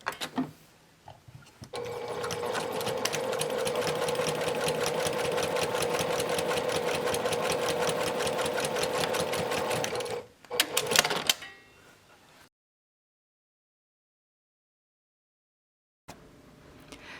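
Sewing machine running steadily along a fabric edge with an 1/8 inch seam allowance while closing an opening on a face mask keychain case, a long continuous stitching run that stops, followed by brief handling clicks and then near silence.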